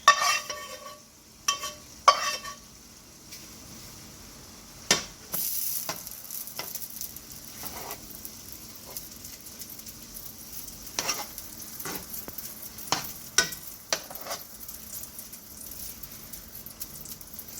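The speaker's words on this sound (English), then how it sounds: "I'm going to add it over to our ground beef and stir that in." Ground beef and peppers sizzle in a pan while a spoon stirs them, with sharp scraping clacks at irregular intervals over a low, steady frying crackle, close by and with no talking.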